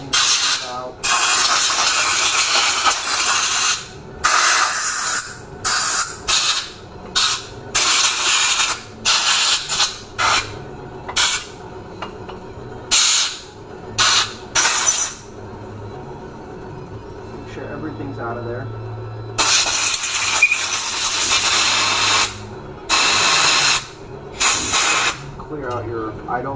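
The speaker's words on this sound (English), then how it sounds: "I'm just going to blow everything out. Go through all the jets and everything." Compressed air blowing through a carburetor body and jets during an Edelbrock carburetor rebuild, with repeated loud close hissing blasts of varying length separated by short pauses, with speech underneath.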